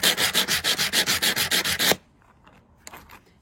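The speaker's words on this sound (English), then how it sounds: "we just give it a little bit of a bath, and then we can come down and scrub it" Rhythmic scrubbing of iridized glass after a bath, about a dozen quick, even back-and-forth strokes close by, then stopping abruptly into near silence with a few faint scrapes.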